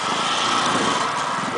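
A small motorcycle engine runs at high revs during wheelie riding among friends, a continuous buzzing whine held close and loud for the whole short moment.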